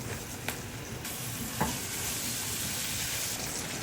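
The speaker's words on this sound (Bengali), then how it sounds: "এখন এতে আমি দিয়ে দিচ্ছি আমার শিমগুলো" Beans tipped into a hot pan sizzle in a steady, even hiss with a couple of brief clinks near the start, close and fairly loud with no talking.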